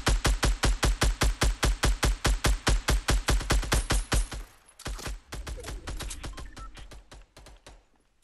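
Rapid automatic gunfire in the Fortnite video game, a fast, loud, evenly spaced burst for about four seconds, then scattered shots and rattling bursts at a lower level.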